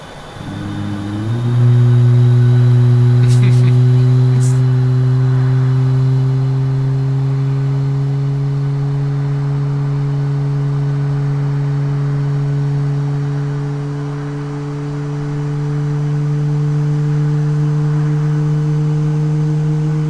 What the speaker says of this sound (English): Sounds like a great start on engine